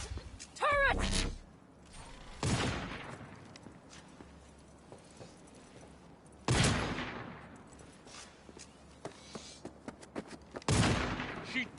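Turret gunfire in Cyberpunk 2077 erupts in several loud, broad bursts spread across a noisy combat scene, with clattering mechanical rattles and scattered impacts between the blasts.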